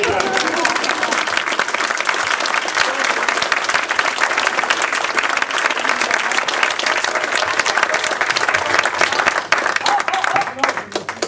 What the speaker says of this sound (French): on va applaudir la technique